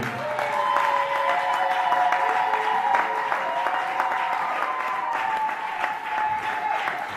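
A church congregation applauds steadily during worship, with dense continuous clapping throughout and a sustained musical tone running beneath.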